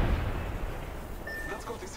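Gunfire from the Apex Legends video game, with dense rattling shots and booms running steadily throughout, mixed loudly against a busy game soundscape, and a voice talking briefly over it.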